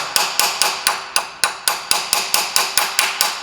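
A hammer strikes a driver to seat a seal on a Buick LeSabre's 440-T4/4T60 transmission during a filter change, about fourteen evenly spaced, sharp metallic taps at close range, with no talking.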